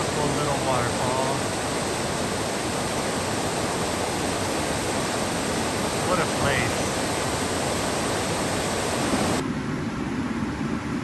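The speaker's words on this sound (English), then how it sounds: "Little waterfall." Small waterfall tumbling through a narrow, slippery canyon section near Mt. Rainier, Washington, a steady broadband rush of falling water filling the scene, with a person briefly speaking over it.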